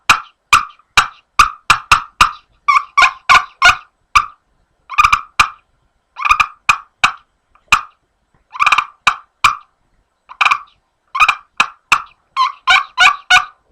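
Close, crisp clucks from a maple wood turkey box call come in irregular bursts, sharp single clucks mixed with quick clustered runs and brief pauses, with no voices.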